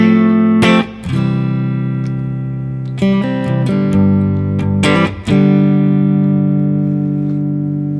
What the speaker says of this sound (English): So number 5 is a profile of a Fender Deluxe Blackface